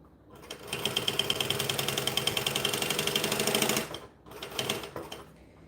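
A sewing machine back stitches through bonded nylon fabric, a close, rapid rhythmic clatter running steadily for several seconds, pausing briefly, then resuming in a shorter burst.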